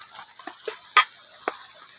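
Half-fried chopped onion in a pan for a fish and potato curry gives a faint, soft sizzle broken by a few sharp scrapes and taps of stirring, with no voices.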